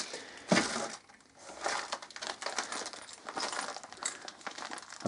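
Small metal parts, a bag of assorted Tamiya Clodbuster screws, ball joint screws, motors and pressed metal pieces, rustle and clink as they are handled close up in a series of crinkly, jangling bursts with no speech.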